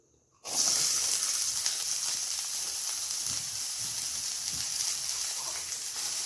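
Small onions dropped into about one and a half spoons of hot coconut oil for a vegetable soup, bursting into a loud, steady sizzle after a brief quiet start and hissing continuously to the end.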